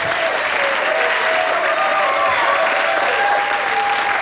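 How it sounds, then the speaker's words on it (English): Game show studio audience applauding a contestant, a dense, loud, continuous burst of clapping that holds evenly the whole time, with a faint tonal studio sound underneath. "So give him another round of applause to take him back."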